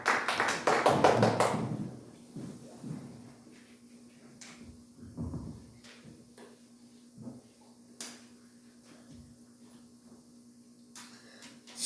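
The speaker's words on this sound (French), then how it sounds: "On acclame très fort" A church congregation breaks into dense applause for about two seconds, then it thins quickly to scattered claps and light taps in a quiet hall.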